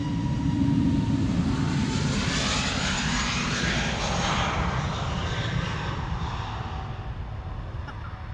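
An Airbus A320neo departing Amsterdam Schiphol Airport gives a loud, sustained jet engine roar that stays broad and steady throughout and eases only slightly toward the end.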